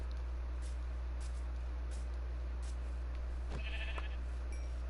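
A faint sheep bleat from Minecraft sounds briefly over a steady background hum and hiss.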